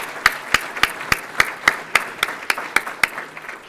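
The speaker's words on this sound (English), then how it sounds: "Let's give them a big round of applause." At a landlord and small developers summit, a single steady clapping sounds close and fairly loud: about ten evenly spaced, sharp claps at a brisk, regular pace with little else around them.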